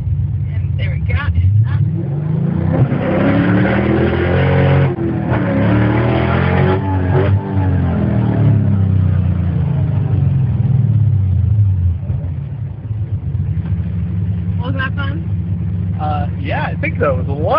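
A Dodge hot rod accelerating hard away from a drag strip start, its loud engine roar climbing through rising gear pulls before easing off, with people speaking over it near the beginning and end.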